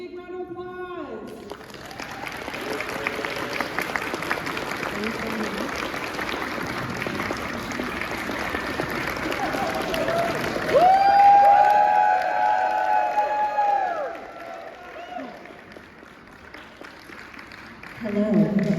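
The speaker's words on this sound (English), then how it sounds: "Welcome them to the stage, everyone, with a big round of applause." A large convention audience at an Avatar: The Last Airbender panel in Dallas claps and cheers in a sustained, loud roar of applause that swells and then fades, with voices and a shout over it near the end.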